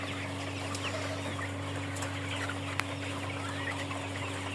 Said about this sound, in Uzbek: Jo'ja makyonchalarimiz.